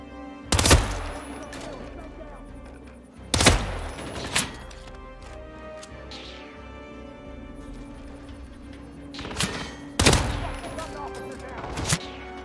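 Several loud, sharp gunshot bursts from a firefight in the Hitman video game in a snowy Colorado setting, spaced irregularly and ringing out over a low background rumble with faint clatter between shots.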